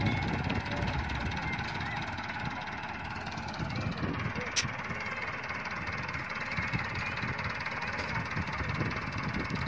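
A 2010 Massey Ferguson 240 tractor engine labours while pulling a fully loaded trolley, a steady rumbling drone with knocking undertones running continuously, close and fairly loud, with no clear talk over it.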